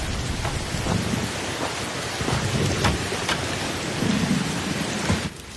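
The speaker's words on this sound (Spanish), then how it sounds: "La tormenta no pasará hasta mañana." A thunderstorm with heavy rain pours down in a loud, dense, continuous roar, with deep rolls of thunder swelling through it and a few sharper cracks scattered across.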